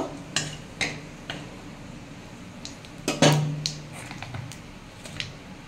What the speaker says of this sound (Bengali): ফোড়নটা একটু ভালো করে ভেজে নেব।